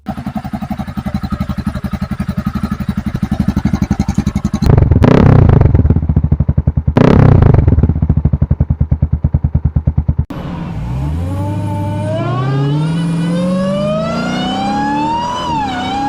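Motorcycle engine with an aftermarket straight-through exhaust, a loud close rapid throbbing idle with two sharp revs, then a smoother running tone rising and falling in pitch.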